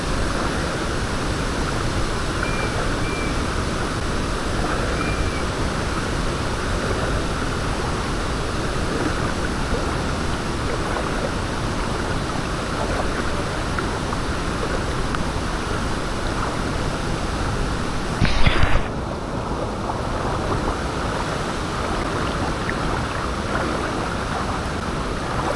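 Motorbike ride through flood water in the rain: a dense, steady roar of wind, water and rain runs throughout, loud and unbroken, with one brief louder splash partway through.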